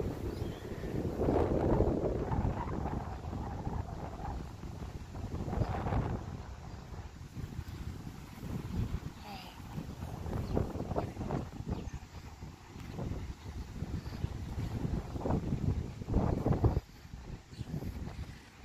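Gusty wind at an outdoor burial site in Salem, buffeting the microphone in rough, uneven rumbling bursts throughout, with faint rustling underneath.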